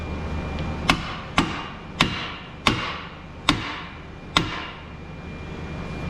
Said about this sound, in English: We're going to gently tap right here along the arm